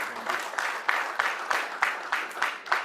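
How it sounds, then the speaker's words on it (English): An audience gives a round of applause at a formal event, a dense, steady patter of many hands clapping with rhythmic swells, moderately loud and unbroken, without talk over it. "Please, can you give him a round of applause?"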